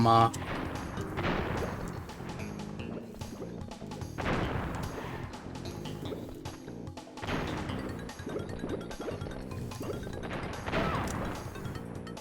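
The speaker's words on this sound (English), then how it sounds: "it's nitro boxes. They're here. They're gonna be detonated anyway" Nitro crates detonate in the video game Crash Bandicoot 2, giving about four sharp, heavy explosive bursts spaced a few seconds apart over continuous game music.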